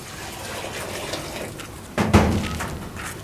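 Bitter gourd (karela) being rinsed in water. A soft, steady trickle gives way about two-thirds of the way in to a louder splash and gush as the vegetable is sloshed.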